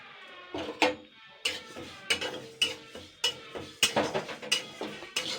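Moong dal is being dry-roasted in a kadai with no oil. A spatula scrapes and clanks against the pan in a steady rhythm of about eight or nine sharp metallic strokes, close and fairly loud, with no voice heard.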